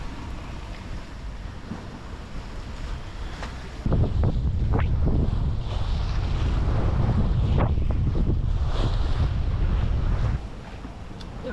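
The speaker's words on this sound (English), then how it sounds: "And slowly the wind is picking up." Wind roars steadily across the microphone on a sailing boat crossing the Pacific, with waves rushing around the hull. The noise swells louder and rougher partway through, then eases again near the end, and no one speaks.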